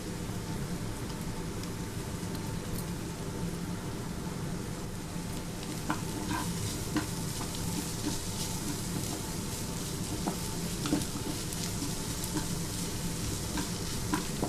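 Chopped onion, ginger, garlic and green chilli fry in oil while being stirred for an Odia egg chingari dish, a continuous close sizzle with scraping stir strokes and small crackles growing busier in the second half; no one speaks.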